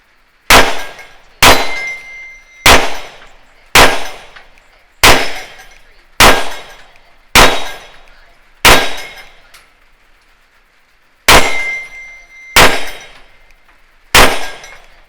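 Eleven sharp 9mm pistol shots of Federal Syntech 150 grain ammunition crack out loud and close, each followed by a short decaying ring, fired at a steady pace of roughly one per second with a brief pause before the last three.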